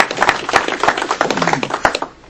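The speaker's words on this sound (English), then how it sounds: "Let's give him an applause." Scattered, uneven handclaps from a small audience at a talk, close and fairly loud, thinning out and fading toward the end.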